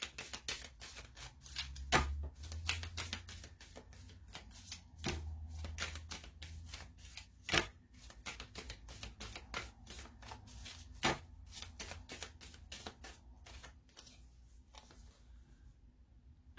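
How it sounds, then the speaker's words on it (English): Moonology Oracle cards being shuffled by hand, with soft repeated riffling and sharp flicks of card stock close up in a quiet room, the rhythm irregular and steady throughout, no talking. "I'm going to pull a Moonology Oracle card for you."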